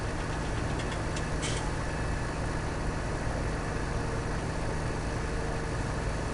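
A tractor engine idles steadily in a farming video game, a low, even drone with a faint knocking texture, continuous and moderately quiet, with a couple of brief high clicks near the start.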